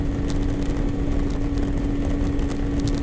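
A 125cc motorcycle engine runs steadily while riding, with a constant drone and a strong steady hum throughout. The engine stays loud and close, with no pauses or gear changes standing out.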